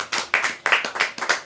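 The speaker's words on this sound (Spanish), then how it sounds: "Dele una ovación de palma." A church congregation claps hands in an ovation, a dense run of rapid, close claps with rhythmic surges and no voices over it.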